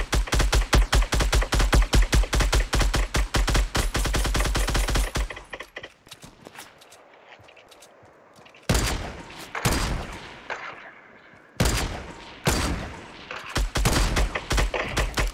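Gunfire in the video game Fortnite: a long rapid burst of shots for about five seconds, a quieter gap, then several more loud bursts of fast firing, close and dominant with no voices.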